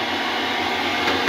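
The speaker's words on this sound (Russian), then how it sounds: "И большой-большой фен." A steady, loud whooshing drone of a hotel bathroom hair dryer running close by, constant airflow noise with no pauses.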